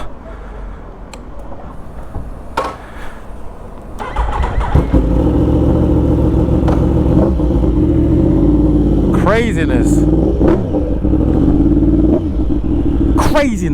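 A 2015 Yamaha R1 superbike fires up around four seconds in after quieter talking, then idles loudly and is revved several times in sharp, close bursts, with a voice speaking over it.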